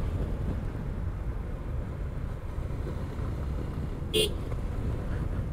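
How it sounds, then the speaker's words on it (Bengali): A brief vehicle horn toot sounds once near the end, a quick bright blast over steady engine and road rumble as the vehicle climbs a winding hill road in Bandarban. "প্রতিটা বাঁকে একটা করে হর্ন, ছোট্ট করে।"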